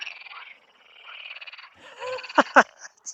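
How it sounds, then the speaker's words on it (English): Marsh frogs croaking in a wetland, a chorus of rasping, pulsing calls building to two loud, close croaks near the end, with no talk. "these marsh frogs"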